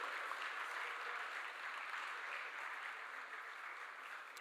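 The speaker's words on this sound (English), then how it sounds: "Gentlemen, please give a big round of applause for my team Coimbatore." Steady audience applause at the close of a conference session, honouring the organising team, a dense, even wash of clapping from a crowd heard at some distance, with no talk over it.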